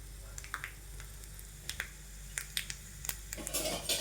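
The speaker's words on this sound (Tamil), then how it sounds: "கொஞ்சம் பூண்டு நல்லா ஃப்ரை ஆகட்டும்." Garlic fries in hot oil in a pan, a soft crackling sizzle with scattered sharp pops, fairly faint and heard alone.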